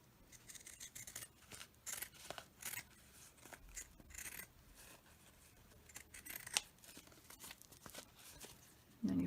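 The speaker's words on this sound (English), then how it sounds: "now this should be dry enough to cut around the edges. So that's what I'm going to do now with my fabulous pinking shears here." Pinking shears snip around the edges of scrap fabric for a pocket purse in a quiet room, giving repeated crisp, close cutting crunches in irregular bursts with short pauses between.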